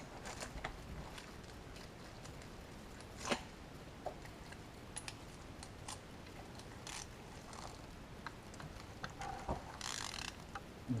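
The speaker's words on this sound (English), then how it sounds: "we check the screw. I'm going to see if it's tightened enough," Small tool clicks and ratcheting taps while checking a screw's tightness on a DSG7 DQ200 gearbox valve body during repair, faint, scattered mechanical ticks at close range with no talk.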